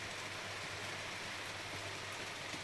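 Rain beginning to fall outdoors after a dry day, a soft, steady wash of drops pattering on surfaces, faint and even throughout with no voices.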